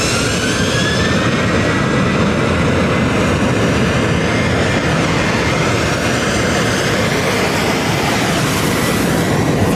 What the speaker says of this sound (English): The Boeing E-7 Wedgetail, not just an aircraft, but the brain of modern air warfare